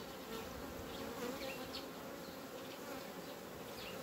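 Honeybees hum in a steady, dense drone close by at an open hive, with individual buzzes rising and fading over the constant swarm sound.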